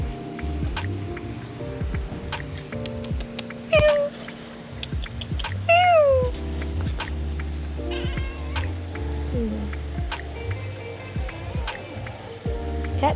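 Two short rising-falling meows from an orange cat, one early and one in the middle, over a steady low background hum and scattered soft clicks.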